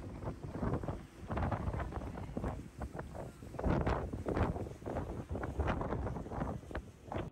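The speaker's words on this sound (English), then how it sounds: "It's a little windy." Gusty wind rumbles across a microphone on a cruise ship balcony at sea, low buffeting surges rising and falling continuously, quiet overall.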